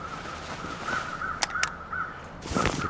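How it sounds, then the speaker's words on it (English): Crows cawing as they circle a body in the video game The Long Dark, several harsh calls spaced through a steady ambient drone, with sharp clicks and a rustle near the end. "these birds are circling this body right here."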